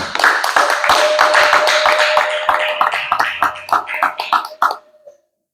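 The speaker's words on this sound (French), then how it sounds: "Acclamons très fort pour le Seigneur" A church congregation applauds at a Sunday service, loud dense clapping from many hands that thins into scattered claps and stops, with a held musical tone underneath.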